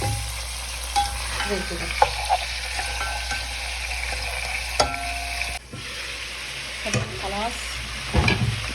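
Chicken pieces browning in ghee in a pan for honey-glazed chicken kabsa, a steady close sizzle broken by frequent utensil scrapes and stirring clinks, with a brief spoken remark.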